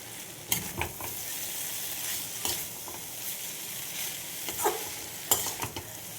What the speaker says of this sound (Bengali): এবার দিয়ে দেবো যে ম্যাগিগুলো আমি বয়েল করে রেখেছিলাম।